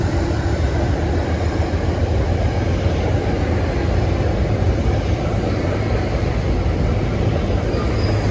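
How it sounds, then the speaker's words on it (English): Train 1868, a Metro-North service from Grand Central to Danbury, rolls along the Park Avenue Viaduct in Harlem with a steady, loud, continuous rumble and rail noise that holds for the whole stretch. "the train scooting by in the background was 1868"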